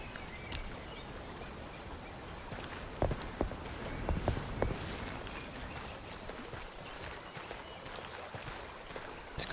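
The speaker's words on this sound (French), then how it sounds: "J'entends un bruit de pas." Footsteps in the video game Of Ash & Steel, a faint patter of steps with a few sharper thuds around the middle over a quiet ambient bed.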